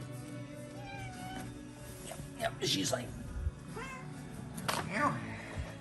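A cat meows for treats indoors, giving several soft, high mews that rise and fall amid quiet talk and whispering.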